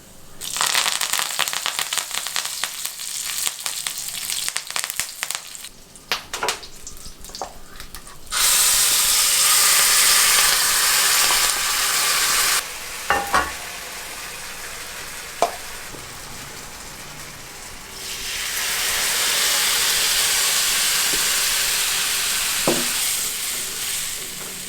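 Mustard seeds pop and splutter in hot oil while cooking a Kerala-style chickpea curry, a loud steady sizzle with stirring sounds and short breaks between bursts, no one talking.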